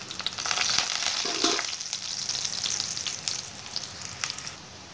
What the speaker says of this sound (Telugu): బాగా బ్రౌన్ కలర్లోకి వచ్చేంత వరకు వేపుకోవాలి, చూసారా ఇలా బ్రౌన్ కలర్లోకి రావాలి.